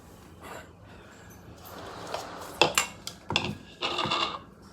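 A mixer grinder jar is handled in a home kitchen, giving a few sharp knocks and clattering contacts, with a louder cluster of bumps toward the end and no talking.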